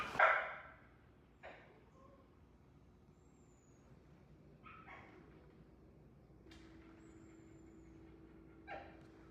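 Several excited dogs bark in a few separate bursts while being rounded up to go to the car, with quiet stretches between the barks.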